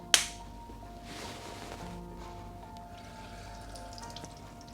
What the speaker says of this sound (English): And a splash of water.